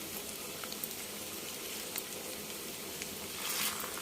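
Stuffed brinjals for masala gutti vankaya frying in a pan, giving a steady soft sizzle with faint crackles throughout, growing a little brighter near the end.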